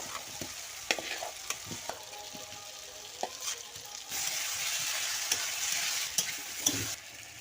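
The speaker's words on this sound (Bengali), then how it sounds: "মশলাটাকে ভালো করে নেড়ে চেড়ে কষিয়ে নেব" Spice masala frying in oil with potatoes and papaya, stirred with scattered scraping strokes over a faint crackle; the sizzle swells louder and denser about halfway through and stays close.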